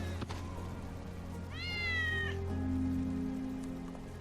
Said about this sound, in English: Hear that? Kitty survived. That's Wedge's cat.